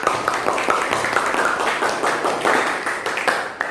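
Children clapping together in a classroom, a loud, fairly close burst of quick, uneven claps that keeps going for a few seconds, with faint voices mixed underneath.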